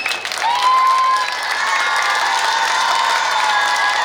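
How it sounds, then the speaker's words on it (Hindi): Schoolchildren applauding and cheering for their teacher at a school honour ceremony, a loud sustained crowd of clapping with shouts and whistle-like cries rising above it. "बच्चे कितने जोरदार तालियां बजा रहे हैं गुरुजी के लिए"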